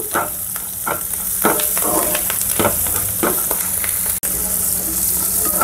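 Upma seasoning with curry leaves frying in a pan makes a constant loud sizzle, broken by repeated stirring scrapes and a sharp click near the end.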